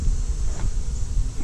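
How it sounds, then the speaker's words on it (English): Bees buzzing around a Mexican jumping hive during a removal outdoors, with a steady, dense drone mixed with wind noise. "you notice there are a lot of bees here on the ground"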